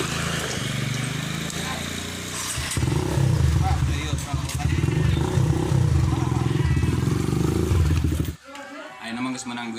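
A new motorcycle's engine runs with a loud, rough roar and clatter, building and holding strongly before cutting off abruptly near the end. People appear to talk over it.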